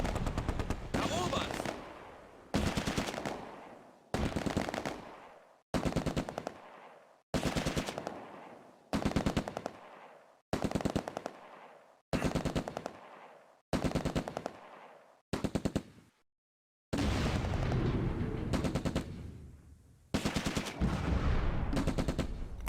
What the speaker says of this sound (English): Zimmernick calls in a fire mission.